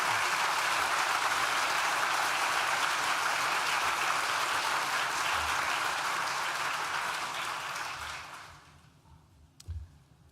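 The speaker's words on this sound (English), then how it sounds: "Please join me in thanking them with a well-deserved round of applause." Sustained, dense applause from a graduation ceremony audience at a university arts and humanities school, loud and steady for about eight seconds before fading away to near silence.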